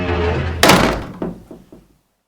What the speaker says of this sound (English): the door swung shut with a bang